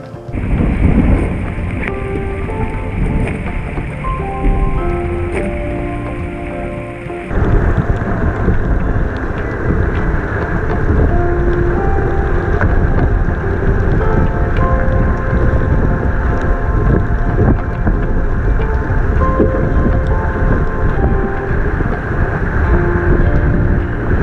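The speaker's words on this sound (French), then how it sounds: "on est complètement bloqué par un gros orage" A heavy thunderstorm near the Île de Houat pounds a small racing sailboat, with loud continuous roaring rain and wind noise against the microphone throughout and rumbling undertones, with no voices.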